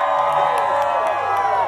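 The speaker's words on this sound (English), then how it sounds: "people are cheering, but then they're telling them to cheer" A crowd at a Hollywood premiere cheers and whoops in a loud, sustained burst of many voices calling out together nearby.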